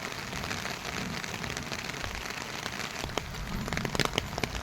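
Steady rain falls outdoors in the first rain of the season, a dense, even patter of drops on surfaces with a few sharper close drips near the end, heard alone without voices.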